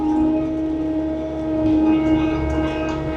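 Skid steer engine running near and steady, a droning tonal hum that eases slightly as it idles down, with a voice talking over it.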